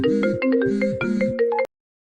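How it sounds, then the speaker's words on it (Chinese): A phone ringtone plays a bright, repeating electronic melody several times for an incoming call, then cuts off abruptly into silence. "简宁，你的电话"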